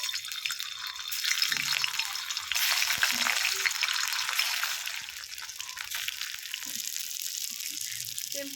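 Flour pieces fry steadily in hot oil in a kadai, a continuous close sizzle with occasional stirring clinks and soft knocks throughout.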